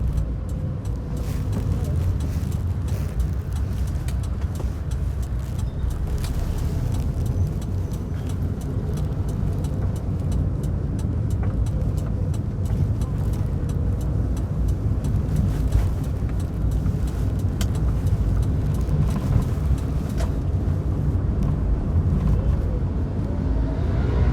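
A manual car creeping through city traffic at low speed, with a continuous engine and road rumble inside the cabin and surrounding traffic noise, steady and fairly loud throughout.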